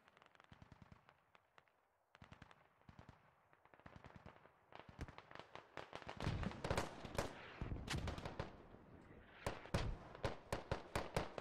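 Bursts of automatic gunfire from a firefight in the Squad military shooter, starting quiet and distant and growing denser and louder, with rapid rattling volleys and single cracks near the end.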